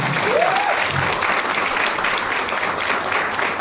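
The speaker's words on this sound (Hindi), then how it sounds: "आकाश जी के लिए एक जोरदार ताली" Loud, steady applause from a gathered audience at a Phuket trip event, continuous dense clapping throughout with a brief voice near the start.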